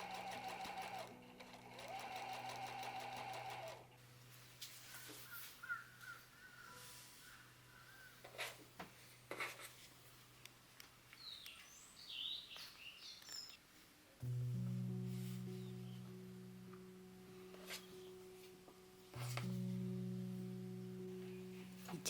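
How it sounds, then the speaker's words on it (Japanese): A sewing machine stitches along the edge of quilt batting for a small bag, running in steady humming bursts with pauses, handling clicks and rustles between runs, close and moderately quiet. "で、これを今度は縫います。 縫うのはキルト綿の端ですよ。"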